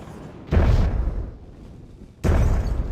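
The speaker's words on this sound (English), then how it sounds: "I don't know why that explosion didn't hit Balin." Two heavy booming blasts in the Myth II: The Fallen Levels battle game, each a loud broadband burst with a rumbling tail, the first early and the second near the end, separated by quieter low rumble.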